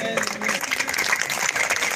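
Audience clapping at a Kavi Sammelan poetry gathering for Subhash Jayanti, a steady dense patter of applause lasting throughout, with a faint voice mixed underneath.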